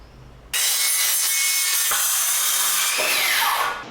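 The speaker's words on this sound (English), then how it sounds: "What I'm going to do is cut just a piece of pine." A saw rips steadily through a piece of pine timber, loud and close, in one continuous cutting pass with a short break in the stroke midway.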